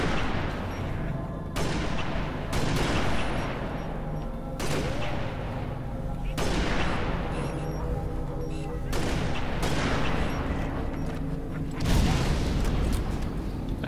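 Gunfire from shooting enemies in the video game Halo Reach, repeated loud bursts and booming shots in rapid fusillades across the whole stretch, with players talking faintly under the fighting.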